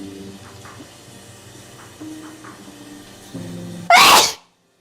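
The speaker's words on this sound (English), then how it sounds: "you ever get like your entire body just gets taken over by a sneeze?" A woman's allergy sneeze bursts out loud and close after a few seconds of quiet breathing and building gasps, then cuts off into silence.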